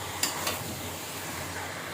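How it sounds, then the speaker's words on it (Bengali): Meat stir-fried over high heat in a home kitchen gives a continuous soft sizzle, broken by a couple of quick scraping stirs near the start, with no voices. "প্রথমে হাই হিটে একটুখানি কষিয়ে নিয়ে তারপর আমি লো করব।"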